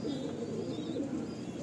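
A restless Kalsira pigeon coos from a home loft, soft low throaty murmuring rolling continuously at close range, with faint higher chirps from other birds in the background.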